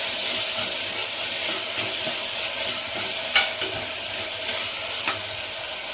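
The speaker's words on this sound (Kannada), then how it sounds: "ಈಗ ಟೊಮೆಟೊ ಹಾಕ್ತೀನಿ. ಇದೆಲ್ಲ ಪೂರ್ತಿಯಾಗಿ ಫ್ರೈ ಆಗಲಿ" Tomatoes and vegetables fry in a pan with a dense, steady sizzle close up, broken by a couple of brief scrapes from stirring, and no voices.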